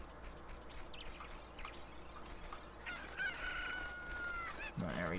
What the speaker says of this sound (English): It's time to finally start herding these chickens in.